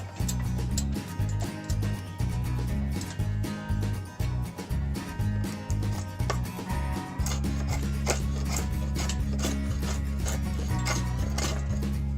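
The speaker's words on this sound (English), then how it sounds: "Yew's pretty nice to work with the draw knife. It cuts like butter." A draw knife shaves long strokes off a yew stave being roughed into a bow, giving a rhythmic series of close, rasping scrapes, each stroke a dry shearing swish, with a brief pause before steadier cutting resumes.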